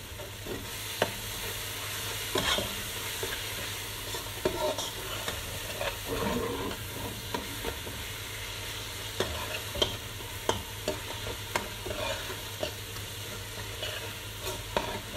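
Goat stew being stirred in a pot after tomato paste goes in, with a soft continuous sizzle and frying hiss broken by scattered spoon scrapes and clicks, close and alone.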